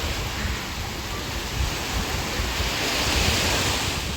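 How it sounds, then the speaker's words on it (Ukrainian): Sea waves surging onto the beach at Side, Turkey, a steady broadband wash of surf mixed with wind buffeting the microphone, loud and continuous with no talking. "Ну ці хвилі, вони шикарні."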